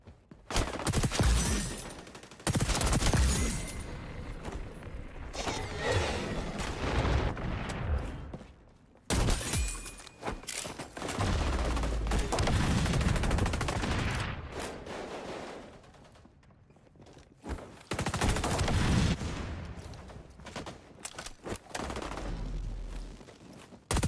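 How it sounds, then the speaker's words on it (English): Rapid crouch-shooting gunfire in the online shooter XDefiant, dense loud bursts of automatic fire repeating in clusters with brief pauses between volleys. "Everybody is crouch shooting"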